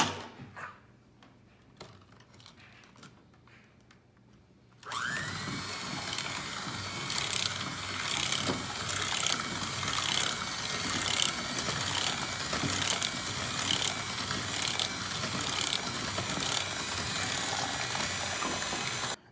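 An electric mixer starts up abruptly and runs continuously, beating cinnamon cookie dough with a steady whirring drone and rhythmic rattling clicks, loud and close.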